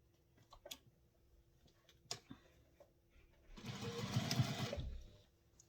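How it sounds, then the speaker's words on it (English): A sewing machine stitches handbag pieces together with a quarter-inch seam in one short run of about a second and a half, coming after a few scattered light clicks of handling. "Sew together with a 1/4 inch seam allowance."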